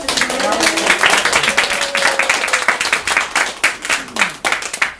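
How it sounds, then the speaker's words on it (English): An audience at a community gathering gives a round of applause, with lively, uneven clapping close by and voices briefly audible over the claps. "Round of applause"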